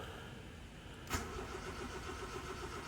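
A rebuilt Honda Civic VTi with a D16Y8 engine catches with a sharp burst of sound, then settles into a steady, even idle hum. No one talks.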